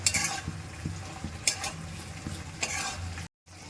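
Pre-fried okra (bhindi) is stirred in a pan with a soft steady sizzle and light scraping, the spoon clinking gently against the metal a few times.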